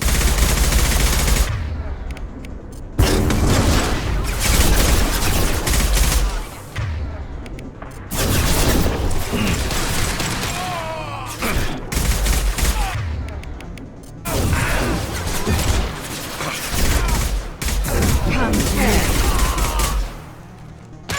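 Heavy gunfire in a Mass Effect 2 battle, repeated loud bursts and automatic volleys with booming impacts, broken by short gaps, while voices speak over the shooting.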